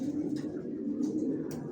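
Racer pigeons of the Johnson line coo softly in a home loft, a low steady rolling murmur running throughout with a few faint higher chirps above it.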